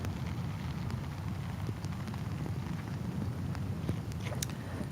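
Rain falling on a golf course at Aramir CC during a professional tournament round, a dense, steady wash of noise that stays constant throughout with a few faint ticks mixed in.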